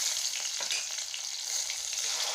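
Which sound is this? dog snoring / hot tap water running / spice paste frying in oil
spice paste frying in oil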